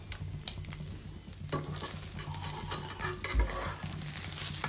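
Food sizzles and fries steadily in a pan while a utensil stirs it, with scraping and light clinks in a quiet home kitchen and no talking.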